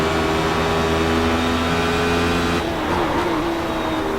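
A Radical race car's engine drones steadily at Mosport in the iRacing sim, holding a sustained high tone that dips and shifts near the end as it changes pitch.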